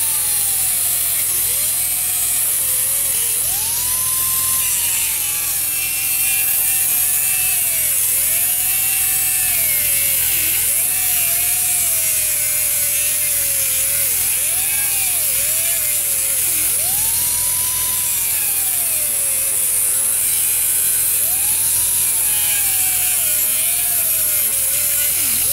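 Cutting tool biting steadily through a 5/8-inch steel cable held in vice grips, a loud continuous grinding whine with a wavering pitch that rises and dips throughout, close by and without talk.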